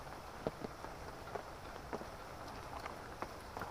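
Light rain patters steadily outdoors in the Thai countryside, a soft even hiss broken by scattered louder drops.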